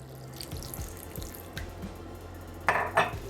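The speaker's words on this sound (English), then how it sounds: "I got some of that pasta water right here. We're gonna drop that in." Pasta water splashes and pours briefly into a pot of noodles, with light clinks and a couple of louder splashes near the end.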